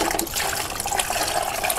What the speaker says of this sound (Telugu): ఇంకా కొన్ని నీళ్ళు వేసుకొని